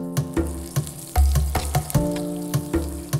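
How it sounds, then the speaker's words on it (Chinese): Strips of eel stir-fry in hot oil in a wok, with a steady sizzle broken by sharp, regular clanks of a spatula against the pan under background music. "热锅起油，将鳝丝入锅滑炒"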